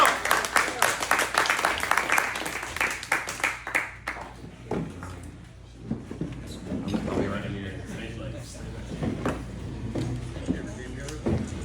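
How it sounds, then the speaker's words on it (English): An audience claps for a speaker, a burst of close, dense applause for about four seconds that then fades into scattered claps, shuffling and talk. "let's give her a round of applause."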